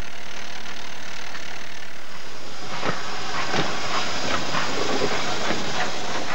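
A six-wheeled 3F steam locomotive hauls a coal freight train on a local line through Nottinghamshire's coalfields. A loud, steady steam hiss gives way to rhythmic chuffing beats that grow stronger as the engine works, with no voices.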